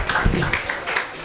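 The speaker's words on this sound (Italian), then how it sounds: "Direi un grandissimo applauso" Audience applause breaks out at an evening event welcoming engineer Paolo Pininfarina, a steady spread of many clapping hands at moderate loudness.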